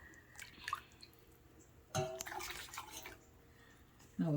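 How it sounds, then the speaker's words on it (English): Hot chocolate tea made from cocoa is strained and poured into a teapot, giving soft drips and liquid trickles with a few louder splashy bursts, all quiet and close. "I'm going to be straining out this hot drink. I have to be mindful that I should be careful. And then we're going to be pouring it in our teapot."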